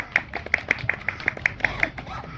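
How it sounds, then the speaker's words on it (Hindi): Audience applause at a cyber-security public awareness meeting: a short burst of fairly loud, rhythmic hand claps at a steady beat, with no voices. "सब तालियों के साथ सम्मान करें"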